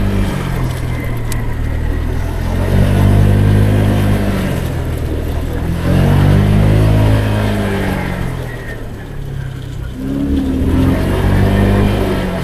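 A bus on a mountain road near Telaga Cebong, Dieng, overtaking a car: the engine swells and revs in several surges, rising and falling in pitch, loud and close from inside the vehicle.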